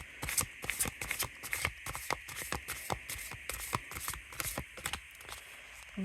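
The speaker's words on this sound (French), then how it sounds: "Je vais bien mélanger les cartes, comme elles sont dans l'ordre." Oracle cards are shuffled by hand in quick, repeated riffling bursts that run steadily for several seconds, close by and without talk.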